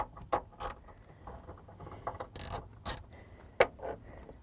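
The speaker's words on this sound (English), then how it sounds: "And then I'm gonna use the 10 millimeter ratchet" A 10 mm ratchet removing bolts inside a Jeep JK during a dead pedal install, with scattered close mechanical clicks and metallic taps in short bursts.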